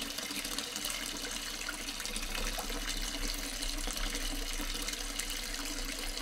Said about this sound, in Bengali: চলো, মগের মধ্যে জল ভরে এবার তোমার মাথায় দিচ্ছি।